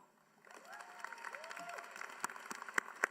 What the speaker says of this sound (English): Let's give them one large round of applause.